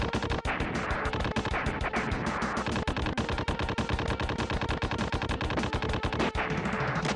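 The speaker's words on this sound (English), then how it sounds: "Robotic worms in the desert with machine guns." Relentless machine-gun fire from robotic worms in a desert stage of a Super Nintendo Super Scope light gun game, a dense, loud, unbroken rattle of shots filling the whole stretch with barely a pause.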